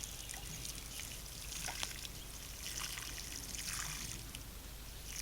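Water poured over stone planters of alpine flowers trickles and splashes through the stones and out the side holes, a faint continuous dribble heard close up with no voices.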